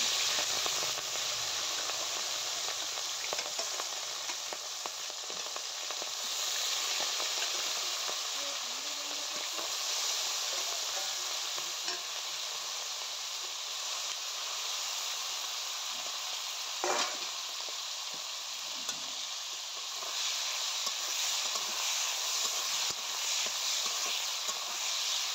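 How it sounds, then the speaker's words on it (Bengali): Prawns frying in hot mustard oil give off a steady, close crackling sizzle that carries on alone with no voices, dotted with faint pops and a few soft stirring clicks. "তো প্রথমে চিংড়ি মাছগুলোকে ভালোভাবে ভেজে নেব।"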